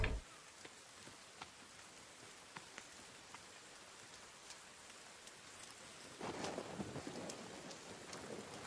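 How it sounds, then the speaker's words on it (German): Steady rain in the survival video game The Forest, with a dense patter of drops and faint scattered ticks, briefly swelling louder near the end as the thunderstorm builds, no speech. "Jetzt ist ja auch noch Gewitter!"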